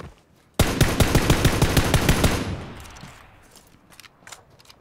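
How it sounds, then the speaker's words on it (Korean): Sudden burst of rapid automatic gunfire in the video game PUBG (Battlegrounds), about a dozen loud evenly spaced shots over two seconds, then a fading echo and scattered faint clicks. "총소리 무지하게 크네."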